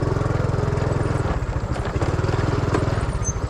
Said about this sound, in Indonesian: sambil kita jalan-jalan itu muncul suara motornya krek krok krek krok krek krok krek krok gitu